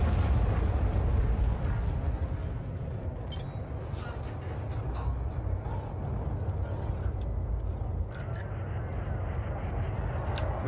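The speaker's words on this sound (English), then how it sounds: "They keep hitting me, these damn missiles." Missiles slam into a spaceship during space combat in the game Warframe: a dense, continuous roar of heavy explosive rumble with scattered sharp crackles, loud and sustained for the whole stretch.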